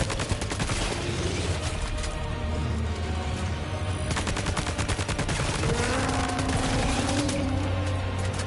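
Gunfire in the video game Death Stranding 2 rattles in dense rapid bursts, loud and sustained like automatic weapons, with brief lulls and crashing impacts between volleys.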